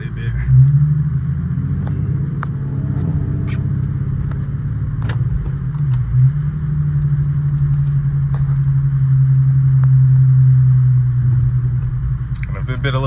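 An Infiniti Q50 rolls off from a stop, its low engine rumble steady and close from inside the cabin, swelling slightly toward the end with a few small knocks and clicks.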